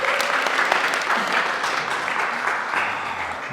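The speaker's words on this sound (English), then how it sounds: "Give her a round of applause, guys." An audience at an art gallery show breaks into steady applause, a dense patter of clapping hands heard fairly close and continuous for a few seconds.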